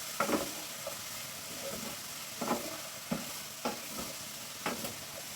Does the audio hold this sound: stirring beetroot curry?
yes